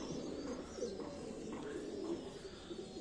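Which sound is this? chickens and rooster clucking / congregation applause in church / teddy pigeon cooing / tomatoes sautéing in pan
teddy pigeon cooing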